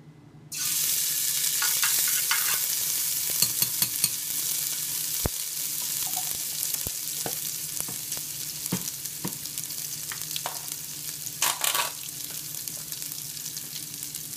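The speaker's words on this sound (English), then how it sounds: "I'm gonna add a tablespoon of my garlic." Minced garlic hits hot olive oil in a pan and erupts into a loud, close sizzle that holds steady, with scattered clicks and scrapes of utensils against the pan.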